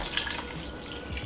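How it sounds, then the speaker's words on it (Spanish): Chicken broth is poured into a pot of sautéed ingredients for papas con rajas, a steady close splashing stream of liquid with no speech. "voy a agregar caldo de pollo"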